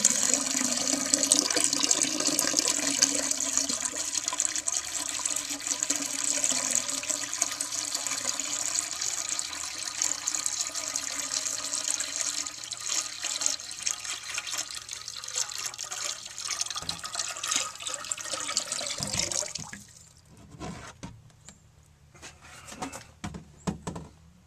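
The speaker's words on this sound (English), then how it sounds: "And now we'll fill up the tank." Water pours from a jug into the tank of a 1954 Eljer Waco toilet, a steady close splashing rush that runs for about twenty seconds, then thins into a few trickles and drips.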